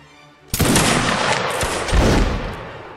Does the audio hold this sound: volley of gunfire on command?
yes